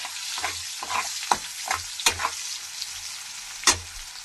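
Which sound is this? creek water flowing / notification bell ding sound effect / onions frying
onions frying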